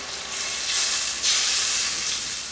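Water poured into a pan of frying onions and wine sets off a loud, broad sizzle and hiss that swells and holds steady for a couple of seconds, with no voices.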